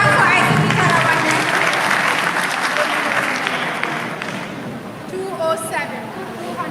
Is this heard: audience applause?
yes